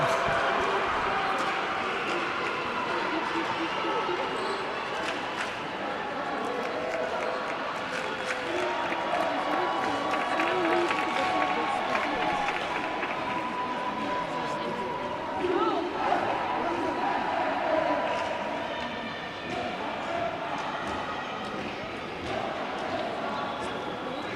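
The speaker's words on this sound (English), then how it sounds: "Look at the crowd going wild." Crowd at an African karate championship in Swakopmund roaring and cheering continuously, a dense wash of many voices with scattered claps and shouts held at steady loudness throughout.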